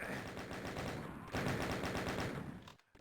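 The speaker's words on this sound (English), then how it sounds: "Chain gun does some work." Rapid chain gun fire in the Doom video game during a competitive World Doom League match, a steady loud stream of shots with a brief shift midway before cutting off abruptly.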